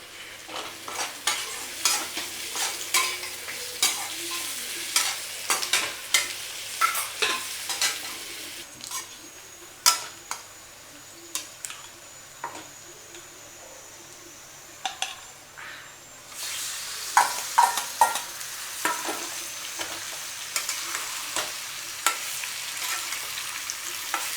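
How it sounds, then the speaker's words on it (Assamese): Sliced onions fry with whole garam masala in a pan for chicken and mutton biryani, a steady close sizzle broken by frequent sharp scrapes of a stirring spoon, with a brief quieter stretch in the middle. "এয়া পিঁয়াজখিনি ভাজি আছোঁ, ইয়াতে দি দিছোঁ গোটা গৰম মছলা"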